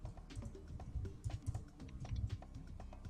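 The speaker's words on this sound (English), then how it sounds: "this typing in this game is so frustrating." Rapid, irregular clicks of a computer keyboard being typed on while playing MapleStory, a dense run of near keystrokes with no talking.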